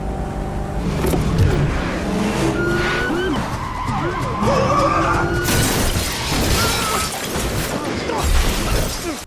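A car crash in a crime thriller scene: tires skid and glass shatters amid a dense, loud mix of engine noise and effects, with a sharp broadband burst of impact partway through and voices mixed in.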